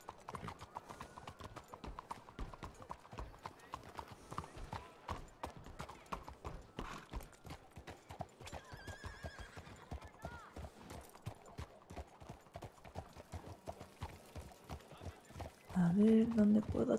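Steady clip-clop of horse hooves on hard ground throughout, with a horse neighing briefly toward the end, heard under people talking nearby.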